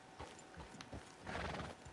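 Horse in Red Dead Redemption 2 clip-clops at a walk, with a faint whinny, soft hooves thudding in a loose rhythm and a louder burst near the end.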